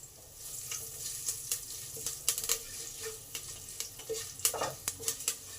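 Garlic, bay leaves and curry leaves fry in mustard oil, a soft steady sizzle broken by sharp crackles and pops, with a louder burst of spitting near the end as the leaves hit the hot oil.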